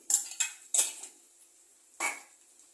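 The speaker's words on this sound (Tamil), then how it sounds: "நல்லா மிக்ஸ் பண்ணிக்கலாம்" A spoon scrapes and clinks against a cooking pan while garam masala, turmeric, chicken masala and chili powder are mixed in: three quick metallic taps close together, a pause, then one more clink.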